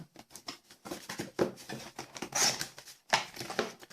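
Cardboard and plastic packaging of a Panasonic HC-V770EE-K camcorder box being opened, with close crinkling, tearing and scraping bursts in an irregular rhythm, separated by short pauses.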